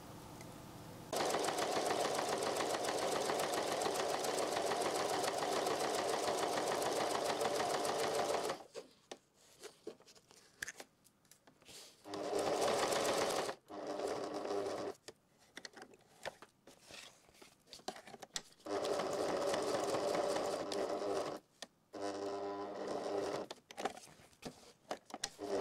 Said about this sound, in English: now is for me to stitch with the stitch length one, so really, really small all the way around